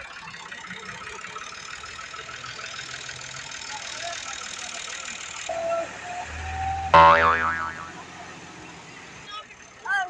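Massey Ferguson 260 and 385 tractors strain in rain-soaked mud, one pulling the other out, engines droning and revving with a sharp metallic surge partway through, while voices talk over the noise.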